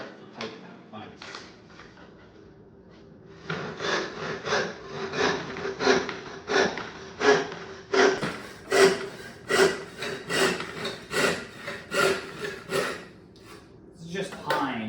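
A backsaw converted from a miter box saw cuts through pine in a rapid run of rhythmic strokes, each a rasping pass, close and loud after a quieter start.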